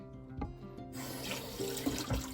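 Water poured into a cooking pot of pompano fish with salt in a home kitchen, a steady splashing gush that starts after a short lead-in and runs on without talk.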